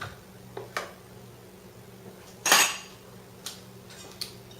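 Vegan cheesecake filling with Daiya plain cream cheese being mixed in a bowl, a few scattered close clinks and scrapes of a utensil against the bowl, one louder stirring scrape midway, no talking.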